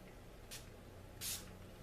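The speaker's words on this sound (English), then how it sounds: "Okay, spray." Two short hissing bursts of makeup setting spray, the second longer and stronger, sound close up against a quiet room.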